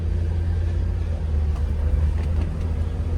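A supercharged Subaru Sambar kei truck with a rear engine cruises in normal driving, giving a steady, low engine rumble heard from inside the cab, with no talking.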